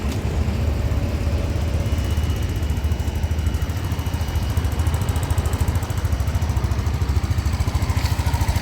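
A Suzuki Address 125S scooter engine idles steadily, giving a constant close, even putter with no talking.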